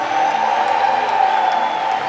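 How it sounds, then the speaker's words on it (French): Church congregation applauding and cheering in praise, a loud steady wash of clapping and raised voices sustained throughout. "On peut encore applaudir le Seigneur fortement."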